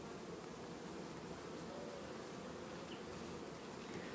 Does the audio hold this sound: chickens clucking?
no